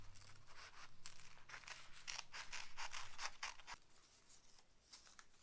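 Scissors snipping through paper to cut out a symmetrical bow tie shape for a Jack Skellington paper mache bust, a rapid series of close, crisp cuts with light paper rustling.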